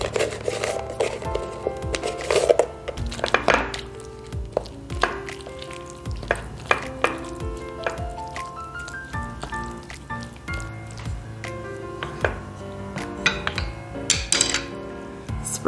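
A spoon stirs raisins into a wet bread pudding mixture, giving soft, repeated squishing and scraping sounds against the bowl over a steady tonal background.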